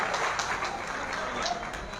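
A Brahmin conference audience in Kannauj breaks into steady applause, a dense continuous wash of many hands clapping together at a constant level through the whole moment.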